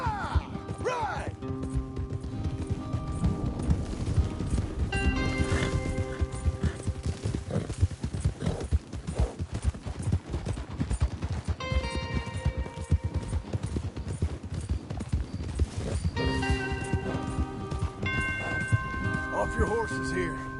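Horses gallop in Red Dead Redemption 2 with a steady stream of hoofbeats, snorts and a neigh, mixed with other game sounds and voices talking over them.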